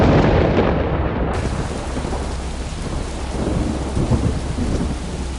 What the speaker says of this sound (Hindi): बाहर बारिश हो रही थी।